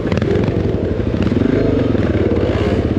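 Yamaha Lanza off-road motorcycle on a trail ride in Sri Lanka, its engine loud and close with a rapid, pulsing two-stroke idle and slight revving, plus some clatter, heard alone.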